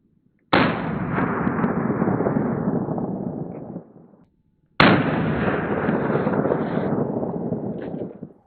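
Two loud, sharp gunshots from green-tip lead-free 198 rounds fired at Level IIIA+ body armor, each a sudden blast with a long, rolling roar that fades over several seconds before the next shot.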